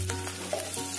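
Chopped garlic and green chilli crackle in hot oil already seasoned with fried cumin, a steady close sizzle that continues without a break.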